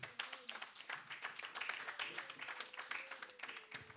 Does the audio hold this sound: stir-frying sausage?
no